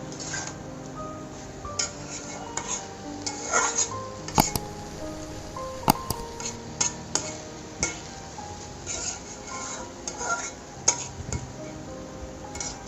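Malabar spinach frying with pumpkin and green chillies in a pan, with a soft hiss beneath scattered metallic clinks and scrapes of a spatula stirring against the pan, close and moderately loud.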